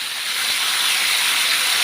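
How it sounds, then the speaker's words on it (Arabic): Tomatoes sizzling in hot oil, a loud, continuous hiss that swells slightly at first and then holds steady, heard up close. "صوت البندورة"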